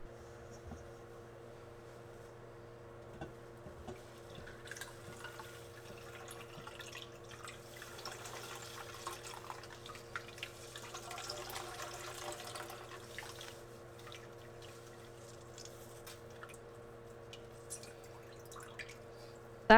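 Almond milk drips and trickles as the pulp is squeezed by hand through a strainer, with soft intermittent drips and splashes over a quiet steady background hum and no talk.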